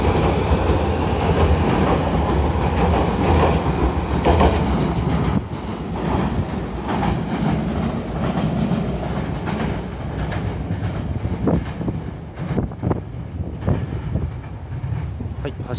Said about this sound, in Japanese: はい、303系普通列車発車です。